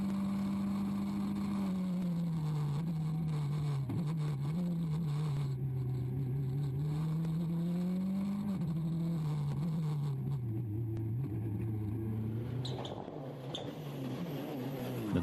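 A Ford Focus WRC rally car drives a stage at the Rallye du Condroz, its engine a loud steady drone that rises and falls with gear and throttle changes, close by and passing without any talk.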